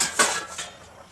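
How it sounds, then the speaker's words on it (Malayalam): A lid is set on a clay fish-curry pot with two quick ceramic clinks, a sharp first knock and a lighter second touch, close and clear. "ഇപ്പം നമുക്കിത് അടച്ച് വെച്ച് നമുക്ക് വേവിക്കാം."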